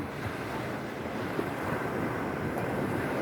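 Steady wash of sea waves on a beach, a broad continuous roar with wind buffeting the microphone, no distinct crashes standing out.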